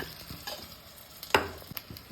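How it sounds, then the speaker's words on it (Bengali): Pointed gourd (potol) fries in a pan with ginger, tomato, chili powder and turmeric. A steady sizzle runs under intermittent scraping stirs, with one sharp, louder clatter midway. "এখানে পটল ভাজাভাজি চলছে"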